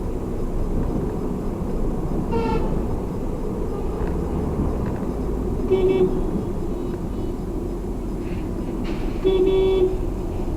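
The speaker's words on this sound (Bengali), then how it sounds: "হর্ন দিব না, তারপরে হর্ন বাটনে কিভাবে যেন আঙুল চলে যাচ্ছে" A Honda Fit Hybrid's horn gives three short honks while it drives through busy street traffic, heard over steady road noise and engine hum.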